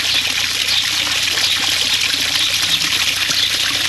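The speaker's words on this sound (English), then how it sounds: "Just got a little waterfall going there." Small waterfall at a wishing well trickling steadily, a continuous close splashing wash of water with no break and no voices.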